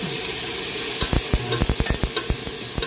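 Pumpkin and string beans sauté in a pan, giving a steady sizzle broken by a run of sharp scraping stirs close by.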